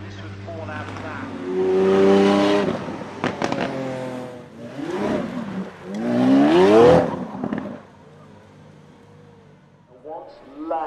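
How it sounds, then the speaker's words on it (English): The V12 engine of a Lamborghini Centenario Roadster revs loudly in several rising and falling surges, with sharp crackles between them. A voice talks over parts of it. "Lamborghini with all that raw look and raw sound."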